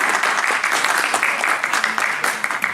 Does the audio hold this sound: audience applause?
yes